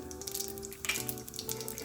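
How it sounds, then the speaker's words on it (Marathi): Cumin and mustard seeds crackle and sizzle in hot oil, a steady close frying hiss with small popping bursts. "तेल गरम झालं की जिरे मोहरीची फोडणी द्यायची"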